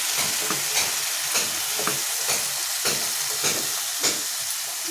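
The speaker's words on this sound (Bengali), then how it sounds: "এরকম নাড়া একটু কন্টিনিউ নাড়া দিতে হবে" A kalia curry is stirred continuously while it fries in a pan, with a steady sizzle broken by rhythmic scraping strokes of the spoon roughly every half second.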